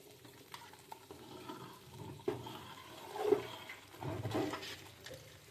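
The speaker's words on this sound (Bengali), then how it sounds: "এদিকে আমি খিচুড়িটাও একবার নেড়ে নিই" Someone stirs vegetable khichdi made with winter vegetables in a pot, producing soft, wet scraping and sloshing strokes. The strokes come in uneven bursts, with a louder churn toward the end, heard close and quiet, with no speech.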